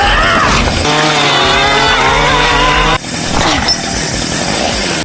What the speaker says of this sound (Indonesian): mengeluarkan senjata andalannya yaitu gergaji mesin lalu menghabisi mereka dengan sekejap